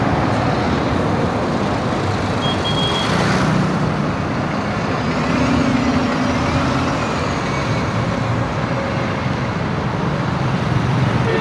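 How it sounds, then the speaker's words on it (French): Vehicles climbing the ramp of the fifth bridge in Abidjan, a dense, continuous roar of cars, trucks and buses heard steadily and loudly with no pauses. "Vous voyez les véhicules qui montent par là."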